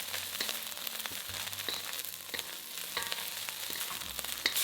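Onion, peas and carrots for pineapple fried rice stir-fried in a wok, a steady close sizzle with scattered scrape and clatter clicks from the spatula, no voices.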